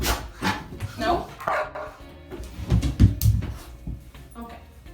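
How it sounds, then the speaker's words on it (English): A dog barks during a basic obedience training session at home, a few short sharp barks in the middle of the stretch mixed with a person talking and some nearby thumps and knocks. "She got overexcited. She barked."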